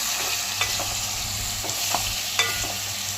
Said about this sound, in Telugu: ఉడకబెట్టుకున్న మటన్ వేసుకుందాం